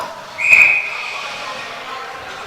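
A referee's whistle sounds one sharp, clear blast at a youth 14U ice hockey game. It is set against steady rink crowd ambience and stands well above the background noise.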